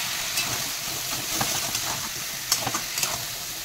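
Vegetables fry in hot oil for data posto, a steady broadband sizzle with a few sharp crackles and stirring clicks, close and continuous with no talk.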